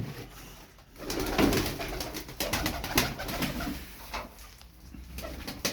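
Tumbler pigeons coo and rustle nearby, soft repeated calls with wing flutters and shuffling, no talking.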